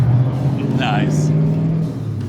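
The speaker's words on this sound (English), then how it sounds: "Good looking Mustang. Late 80s, early 90s." A late 80s or early 90s Ford Mustang at a spring rod run drives past close by, its engine a loud steady rumble with a voice speaking over it.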